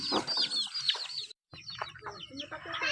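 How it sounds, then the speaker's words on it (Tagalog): Several chickens cluck and squawk close by on a farm, busy overlapping calls with a brief pause in the middle. "Wow, ang dami nating manok."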